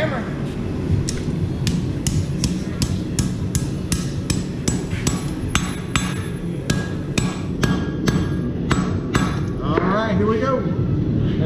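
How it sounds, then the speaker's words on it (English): A hammer strikes hot steel on an anvil while forging a knife at the Silver Anvil Metal Craft shop in Branson, ringing in a steady run of sharp, evenly spaced metallic blows over a busy background of shop noise and voices. "Grab that hammer."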